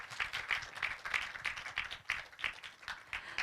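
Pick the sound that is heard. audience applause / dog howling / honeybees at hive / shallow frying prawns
audience applause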